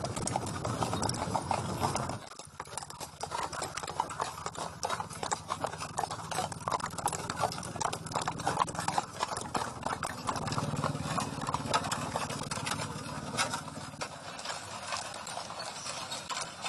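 A four-in-hand royal carriage drawn by horses rolls along at a remount depot, with continuous rapid hoof clip-clops and rattling wheels and harness, heard close and steady throughout.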